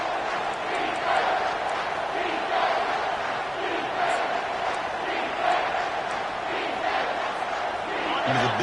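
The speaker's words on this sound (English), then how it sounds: "Third down and the crowd really getting into it." A football stadium crowd roars steadily through a third-down play, a dense, continuous wash of cheering and yelling with faint voices on top and no clear breaks.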